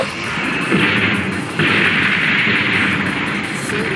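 Gunfire in the mech game Mobile Suit Gundam Online: a loud, sustained barrage of booming shots that blur into a continuous roar, with a brief dip midway before it picks up again.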